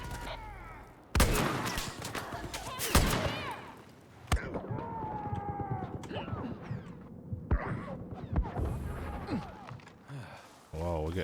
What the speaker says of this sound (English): Wow, we're getting shot up here.